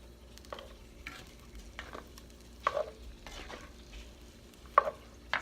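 Chunks of meat for chile verde scraped and stirred in a pan of oil, several distinct scraping strokes over a quiet low sizzle, close by and fairly soft, no talking.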